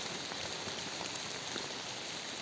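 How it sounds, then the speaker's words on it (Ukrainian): Soft, steady patter of rain falling on a surface, an even hiss with faint scattered drops, fairly distant and quiet. "І дощ лупить або вітер."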